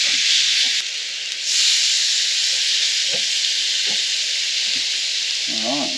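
Seasoned fish sizzles in sprayed oil at a camp cookout, a steady loud hiss lasting throughout, with a few faint knocks and a brief squeak near the end.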